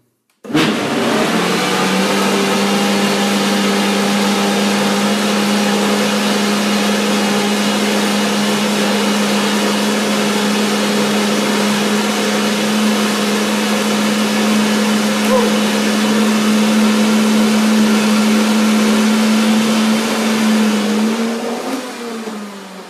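A blender runs continuously for about twenty seconds, whirring coconut milk and coconut oil into a cream pie filling with a loud, steady motor drone that stops abruptly at the end.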